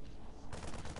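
Gunfire in the StarCraft 2 video game, a dense burst of rapid shots starting about halfway through and continuing to the end, loud and close over a low rumble of game sound.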